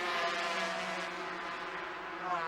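A 250cc racing motorcycle engine at the Salzburgring in 1994 screams at high revs, a steady, harmonic-rich whine held under throttle that sags slightly and then rises again.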